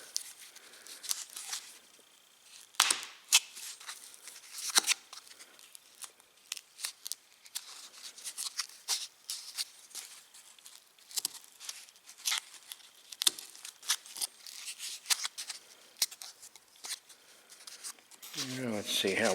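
A pointed razor knife cuts and scrapes at the plastic of a brand new American Standard toilet, making dense, irregular crackling snips and scratches up close, with someone speaking briefly near the end.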